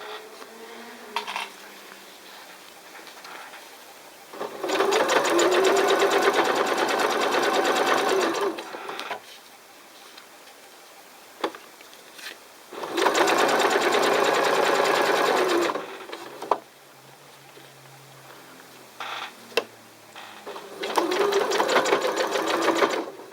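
A sewing machine stitches along a fabric edge, turning a corner, in three loud sustained runs separated by pauses where a person talks quietly.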